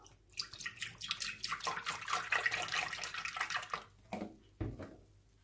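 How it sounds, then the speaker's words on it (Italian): Half a litre of milk poured into a Thermomix bowl, a close, gurgling stream of liquid splashing steadily for several seconds before tapering off into a few last drips. "Iniziamo mettendo nel bimby mezzo litro di latte."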